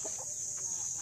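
Young bulik gamefowl chickens cluck softly in a short burst of a few low notes over a steady background hiss, heard close by outdoors.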